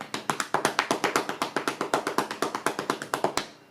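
Hands drumming on the legs in a quick, steady rhythm, about thirty close, crisp slaps over nearly four seconds, alone with no talk.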